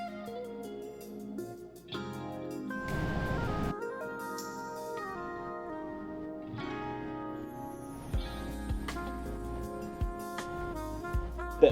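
Household air conditioner running in a kitchen, a brief burst of broadband hiss standing out for a moment over faint tonal background sounds, with no voices.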